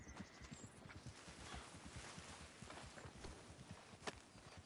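Horse hooves clip-clopping in the Red Dead Redemption 2 video game, a quiet steady walking rhythm of many close hoof falls with no talk.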